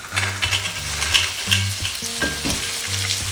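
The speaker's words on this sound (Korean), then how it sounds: "올리브오일 충분히 두르고 편마늘 넣어 볶아줘요." Sliced garlic and clams fry in plenty of olive oil, producing a loud, constant close-up sizzle. Irregular stirring scrapes and light clinks of the pan run through it, with no voices.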